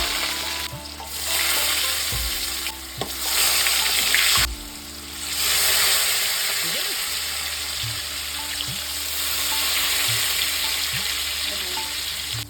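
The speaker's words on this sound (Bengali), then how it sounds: "তেলটা গরম হয়ে গেছে, আমি আস্তে আস্তে এবার পনিরগুলো হালকা করে ভেজে নেব" Paneer pieces fry lightly in hot oil, giving a continuous bright sizzle with gentle bubbling over a faint low hum, loud and close, with no voices.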